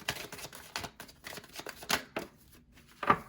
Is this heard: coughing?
no